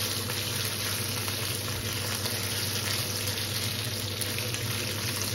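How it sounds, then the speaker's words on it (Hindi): Cut potatoes frying in hot oil for homestyle jeera aloo with cumin seeds, a steady, even sizzle with a dense hiss that holds at one level from start to finish, close up, with no talking. "अब इसको हम अच्छे से ऐसे फ्राई करते हैं।"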